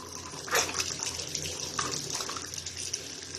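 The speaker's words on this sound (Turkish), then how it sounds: "Evdeki musluğu açan vatandaş çeşmeden gelen sesin görüntüsünü paylaştı. Çeşmeden su yerine hava sesi geldi." A household tap opened during a water outage splutters and hisses air instead of water, giving an uneven gushing, gurgling rush with bursts and sputters, close and moderately loud.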